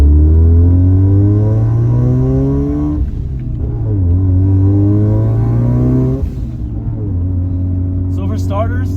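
The turbocharged rotary engine of a Mazda RX-7, a CYM build with some problems, revs loudly through rising and falling sweeps, easing off twice between pulls, with a voice speaking briefly at the end.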